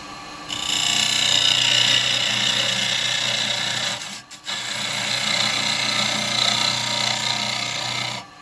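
A carbide chisel cuts a sycamore vase on a spinning wood lathe, making a steady, close, rasping scrape that runs for several seconds. It breaks off briefly midway and then resumes.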